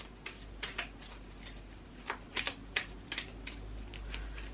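Cards are given a quick hand shuffle, producing faint, soft papery taps and riffles in irregular short bursts, close by and quiet, with no talking.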